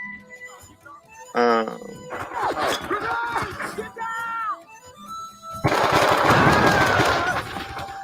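Machine gun fire in the Vietnam War shooter Men of Valor: voices and game sounds come first, then a loud, dense stretch of rapid automatic fire fills the last few seconds.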